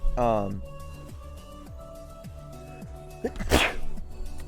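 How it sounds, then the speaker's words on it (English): A single sharp sneeze bursts out near the microphone, preceded by a short vocal sound and followed by some background noise. "Hold on, let me sneeze."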